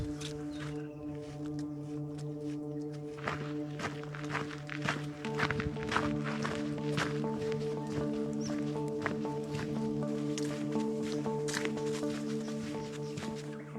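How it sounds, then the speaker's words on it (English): Hikers tramp along the Grampians Peaks Trail, their irregular footfalls crunching faintly over a steady low droning hum that runs through the whole stretch. "we're going to keep walking on"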